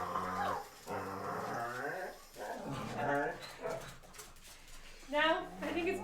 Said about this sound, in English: Calm these puppos down. Enjoy the puppy ASMR. They're gonna make very fun noises.